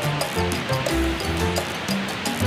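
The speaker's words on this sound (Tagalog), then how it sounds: "Let me introduce you the Kawasan Falls in Trinidad" Kawasan Falls in Trinidad, Bohol pours in a steady, dense rush of water that fills the whole clip, with faint tonal sounds drifting over the roar.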